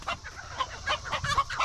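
Backyard chickens, a rooster and hen, cluck in short close bursts, a quick uneven series of clucks and squawks over light outdoor background.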